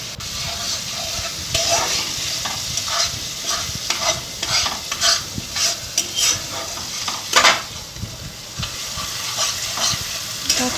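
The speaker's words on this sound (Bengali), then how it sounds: "দেখো আমি ভালো করে কষিয়ে নিচ্ছি মশলাটা, যতক্ষণ না তেল ছাড়ছে ভালো করে কষিয়ে নিতে হবে।" Spice masala for egg curry is stirred in hot oil, crackling and sizzling steadily and close by. Spoon scrapes and small pops break through the constant frying hiss with no talk.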